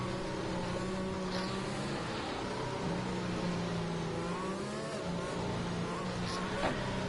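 A safety car leading the field around the Abu Dhabi race track gives a steady, continuous engine drone with a few faint revs. The car stays at an even distance throughout, with a voice talking over it.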